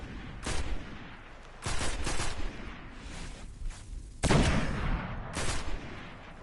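Sniper rifle fire in Destiny on PS4, with about five sharp, loud shots spaced a second or so apart, each ending in a brief ringing tail over low background game ambience.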